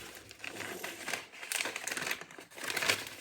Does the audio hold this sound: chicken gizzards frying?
no